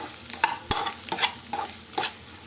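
Chicken liver fry being stirred in a pan, with repeated scraping strokes and a soft sizzle underneath, moderately close and with no talking.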